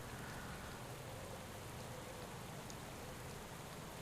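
Steady rain in Pro Cycling Manager 2021 hisses as a dense, even wash from start to finish, with no voices over it.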